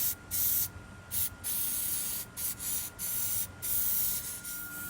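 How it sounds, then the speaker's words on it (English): Penetrating oil is sprayed onto a rusted upper control arm bushing in a string of short, sharp hissing bursts, each lasting under a second, close and clear. "go ahead and soak this with some penetrating oil"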